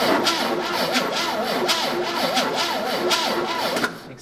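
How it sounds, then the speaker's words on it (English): Old GMC truck engine cranking after carburetor work, a steady rhythmic churning starter whir with a regular pulsing beat, close and fairly loud, cutting off abruptly near the end. "we'll try and crank it one more time. This time it ought to idle if the carburetor's okay."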